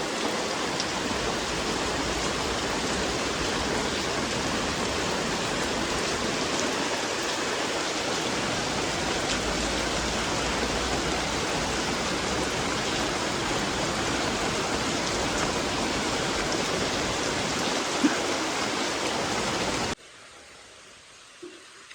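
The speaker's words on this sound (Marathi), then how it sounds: "या ठिकाणी पाऊस पडायला सुरुवात झाली आहे बघा" Heavy rain pours steadily in Dabhole village, Devgad, in Konkan, a dense, even hiss lasting about twenty seconds before cutting off abruptly to near silence.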